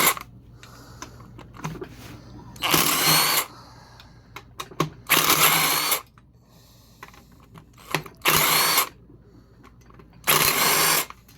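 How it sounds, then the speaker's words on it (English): An impact wrench rattles off transmission bolts on a manual gearbox in a garage, firing four loud, dense bursts of a second or so each, separated by quieter stretches of handling noise. "it makes life so much easier having an impact"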